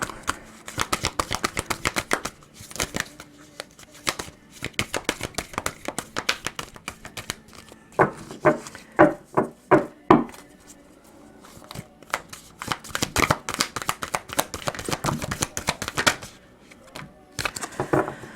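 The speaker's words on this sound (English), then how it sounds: "These are just so hard to shuffle. The deck is so thick." A thick deck of cards is shuffled repeatedly up close, with bursts of rapid riffling flutters and slapping, separated by short pauses.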